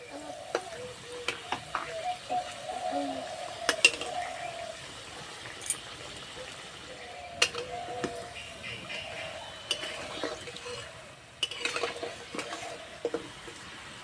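Sweet samosas fry in oil over low heat, a soft steady sizzle with gentle bubbling, broken by scattered light clinks and stirring taps of a utensil against the pan.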